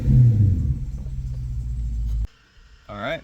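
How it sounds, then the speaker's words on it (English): A V8 Genesis sedan fitted with a new X-pipe exhaust gives a couple of warm revs: a deep, loud rumble that holds, cuts off sharply and is followed by a brief quieter revving rise. "Couple warm revs."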